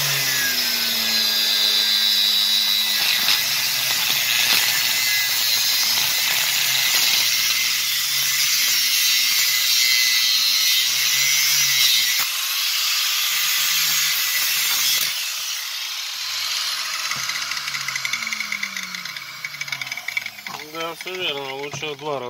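A power tool cuts through the screw head inside a rusty drill chuck, a steady, loud metallic grinding whine that runs continuously, then eases off near the end into rising and falling pitch sweeps as the blade slows.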